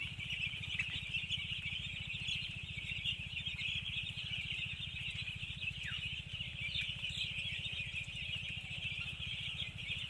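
A five-day-old baby bird chirps in a continuous, high, thin stream of cheeps over a steady low hum. The chirping stays faint to moderate and close, and no one speaks.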